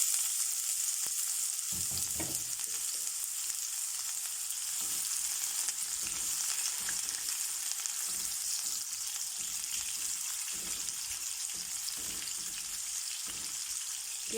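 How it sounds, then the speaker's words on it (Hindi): Onions frying in hot oil for a potato and chicken dish give a steady, even sizzle that holds from start to finish, with a few faint clinks in the background. "ऑयल भी गर्म हो चुका है, और अब मैं इसके अंदर ऐड करूँगी प्याज"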